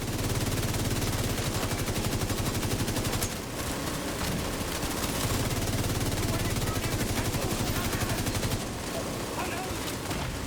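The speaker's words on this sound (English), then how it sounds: "that minigun's unloading on all three of them" Minigun in a video game unloading sustained rapid-fire bursts, a dense continuous rattle interrupted by short pauses, loud and close with other gunfire around it.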